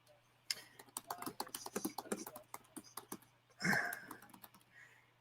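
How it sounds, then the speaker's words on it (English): Rapid keystrokes on a computer keyboard as a web address is typed, an uneven burst of close clicks followed by a short pause and a louder cluster of taps, with a steady low hum underneath. "I'm going to type that in there now."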